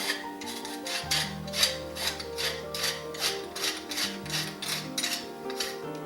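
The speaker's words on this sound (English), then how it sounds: "I want to grind a little white pepper in here." A pepper mill grinding white pepper for a chicken divan dish, with a steady run of rhythmic, raspy crunching and ratcheting turns, close and clear with no talk.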